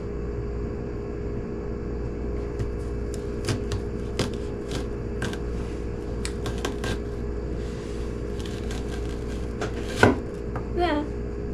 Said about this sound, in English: I survived the onion chopping.